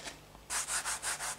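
A brief soft pause, then five rhythmic scratchy strokes of pastel rubbing on grainy paper, close and fairly quiet.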